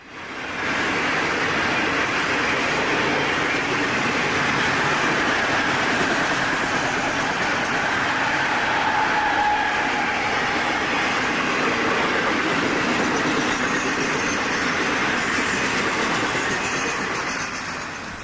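A long Florida East Coast Railway freight train of rock loads rolls past close by, a loud, continuous rumble and wheel roar holding steady throughout.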